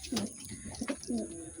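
Pigeons coo softly in a loft, a few short, low, rolling calls close by over a quiet background.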